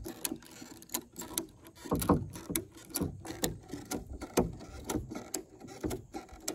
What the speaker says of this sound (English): you getting ready to ratchet it and see if we can make this work?